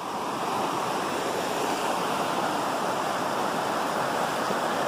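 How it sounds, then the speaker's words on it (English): A small river rushing below cliffs near a bridge on a hiking trail, a steady broadband wash of flowing water that stays loud and even throughout, with no voices. "Nice little river."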